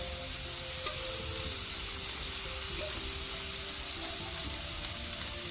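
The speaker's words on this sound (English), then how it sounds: "This shrimp is going to take maybe 3-4 minutes per side, if that. I'm just going to get these sauteed up." Shrimp sautéing in a hot pan, a steady close sizzle and crackle of frying oil that continues without a break.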